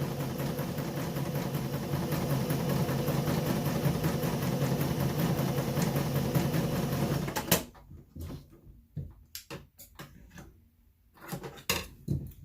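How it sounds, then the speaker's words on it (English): A sewing machine stitches straight across fabric for a face mask, running with a steady, close mechanical hum and whir for about seven seconds, then stopping, followed by scattered light clicks and handling sounds. "Then you sew straight across."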